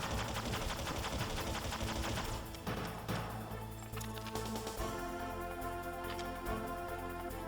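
Rapid gunfire from Metal Gear Solid on the PS1 crackles in dense bursts throughout, loud and steady, with a brief dip midway before the shooting resumes.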